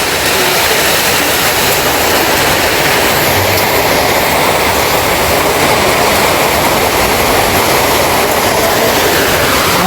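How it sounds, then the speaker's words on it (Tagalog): Heavy rain pours down steadily in a flooding street, a loud, dense, unbroken hiss that fills the whole stretch with no talk over it. "Lakas ng ulan."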